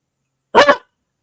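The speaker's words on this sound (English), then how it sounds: "look at that dog, man." A dog gives a single short, sharp bark that stands out alone against silence.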